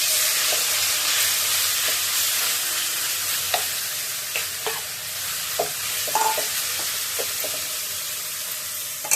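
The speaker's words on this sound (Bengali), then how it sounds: "তেলটা গরম হয়ে গেছে, এবার চিকেনটা ছেড়ে দিই।" Chicken fries in hot oil in a kadai, making a loud, continuous sizzling hiss dotted with scattered pops and crackles throughout.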